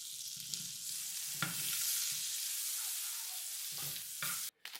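A tablespoon of butter melting in a pan, giving a bright, hissing sizzle that swells and holds close and clear with a few stirring scrapes, then cuts off abruptly near the end.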